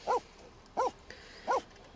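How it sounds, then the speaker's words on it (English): Dog barking in The Sims 4 life-simulation video game: three short, clear barks evenly spaced about two-thirds of a second apart, fairly close and alone over faint background. "Lecture this dog about barking."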